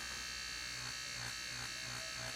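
Nano tattoo machine with a skinny 3 needle running at 4.5 volts, a steady close electric buzz with a faint pulsing rhythm, heard alone with no talk.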